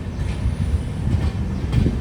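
LHB-coach Secunderabad–Visakhapatnam Garib Rath superfast express passenger train pulling away from Duvvada railway station, a steady close, loud low rumble of rolling coaches with faint rhythmic wheel clatter throughout.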